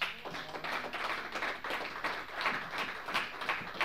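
A church congregation clapping and applauding together, a dense, fairly steady patter of many hands heard at moderate distance, with no voices over it.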